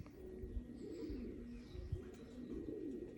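A pigeon coos softly in low, rolling murmurs, faint and close against quiet background rustle.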